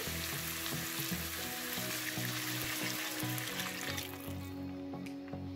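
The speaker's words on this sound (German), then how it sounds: "Nun kommt noch unser Gemüsefond dazu." Vegetable stock poured into a hot pot for salmon soup sets off a steady, close hiss and sizzle with faint liquid splashing, easing off and thinning toward the end.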